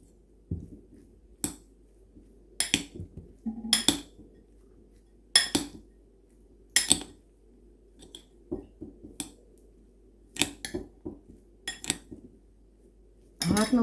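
Utensils clink and scrape in short separate bursts against a bowl as a zucchini dish is mixed, with quiet gaps between the strokes. No one speaks.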